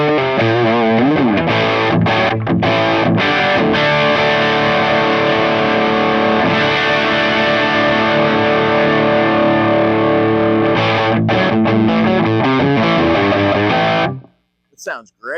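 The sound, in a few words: guitar amp high-gain distortion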